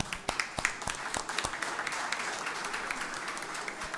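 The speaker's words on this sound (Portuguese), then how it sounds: "eu queria que vocês aplaudissem" An audience applauds steadily at a speech event, a dense wash of many hands clapping with a few sharper, louder claps standing out near the start.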